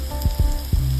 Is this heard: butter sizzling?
yes